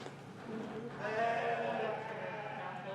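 Purebred yearling ewes bleat in a 4-H sheep show ring, several overlapping calls rising in the middle and holding steady over a busy barn background.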